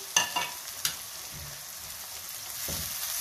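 Turnip leaves fry in a pan for shalgam bhujiya, giving a continuous close sizzle. A few sharp stirring clicks come at the start, with no talk.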